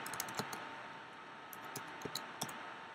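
A command typed on a computer keyboard while setting the display resolution on a Raspberry Pi: a few scattered, quiet key clicks in short bursts over a steady background hiss.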